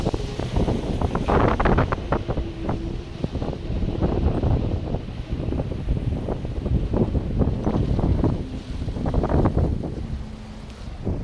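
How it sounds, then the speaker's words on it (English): A strong wind gust blows across a small iSta Breeze i2000 wind turbine with a furling mechanism, making loud rushing buffeting noise that surges and eases in waves throughout. "that gust is still going"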